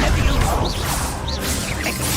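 The Confringo explosive spell in Hogwarts Legacy: a dense, crashing blast with swooshing streaks, loud and continuous over the short span.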